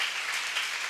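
Church congregation applause, a brief, faint and even patter of many hands clapping at a distance.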